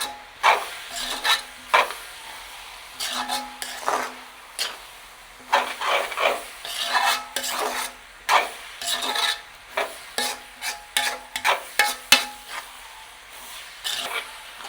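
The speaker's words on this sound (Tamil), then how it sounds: "இப்போ வடிவாக பிரட்டி விடுவோம்." Seeni sambol frying in sesame oil is stirred with steady, repeated scraping and rubbing strokes against the pan, a soft sizzle underneath, close and alone without talk.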